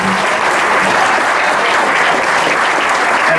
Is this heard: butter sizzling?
no